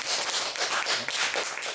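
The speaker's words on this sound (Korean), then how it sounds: "우리 다 같이 박수하겠습니다." A small group of students claps together at the end of a class session, a brief steady patter of hands at moderate volume with no talking.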